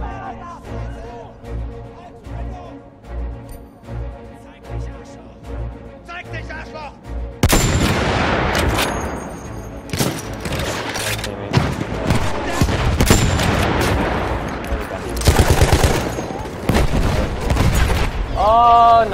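Gunfire in the first-person shooter Battlefield 1: quiet game ambience first, then a loud, dense fusillade of rifle shots and booming explosions that runs on without letup.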